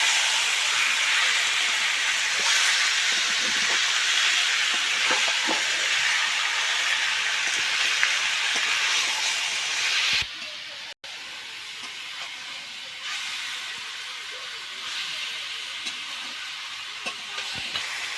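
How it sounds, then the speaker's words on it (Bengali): Chicken for chowmein is stirred in a pan over low heat, a continuous close sizzling hiss with faint scrapes of a utensil, dropping suddenly to a quieter simmer partway through, with no talking. "চিকেনটাকে আমি হালকা আঁচে খুব ভালোভাবে নাড়বো বেশ কিছুক্ষণ।"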